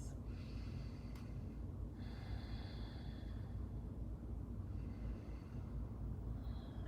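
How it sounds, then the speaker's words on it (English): Slow, deep breaths during a seated stretching exercise, soft breathy inhales and exhales with faint hiss and snort-like airflow, fairly quiet and close against a low background rumble, with no talking. "Taking 2 deep breaths here, breathing into the back of the shoulders."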